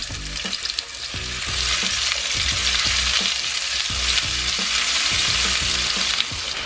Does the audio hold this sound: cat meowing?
no